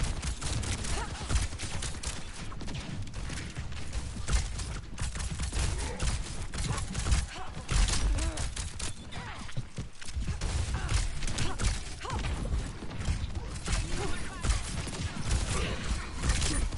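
Gunfire hits a turret in Overwatch: a dense, continuous rattle of shots and impacts with mechanical clatter, loud and sustained throughout, with no clear talk.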